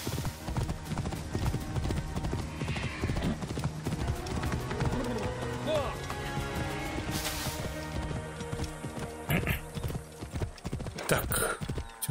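Horse hooves galloping in the video game Assassin's Creed Origins: a steady, dense clip-clop rhythm carries on throughout, with a few neighs and harness sounds. Voices talk over it at times.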